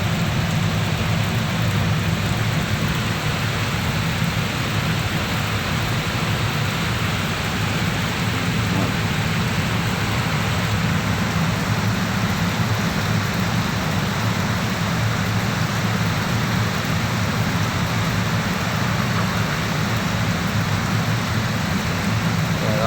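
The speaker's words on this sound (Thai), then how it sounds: "ฝนตกฝนตกครับผ" Heavy rain pours down without a break, a dense, loud, steady hiss that stays even from start to finish, with no voices over it.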